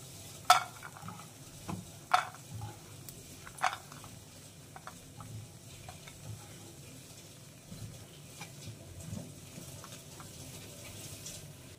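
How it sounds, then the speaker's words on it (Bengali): Lentil dumplings (bori) fry in hot oil, with faint soft sizzling, a few sharp clicks and scrapes of stirring early on, then a quiet steady fizz. "বড়ি দিতে না দিতেই ভাজা হয়ে যায়।"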